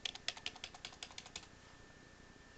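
Rapid run of computer keyboard keystrokes clicking close by for over a second, then stopping and leaving quiet background hum.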